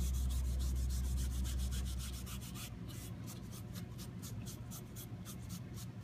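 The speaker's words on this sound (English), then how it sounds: "take a clean rag and just take anything that's left off the surface, rub it down" A clean rag rubs excess oil off a stained red cedar board in quick rhythmic strokes, a soft close scrubbing that starts over a low hum and continues alone.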